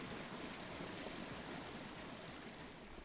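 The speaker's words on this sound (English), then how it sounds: "Ooh, that water sounds nice." Water flows and rushes steadily in the Cowboy Life Simulator video game, a dense, even wash of moderate loudness with no voices over it.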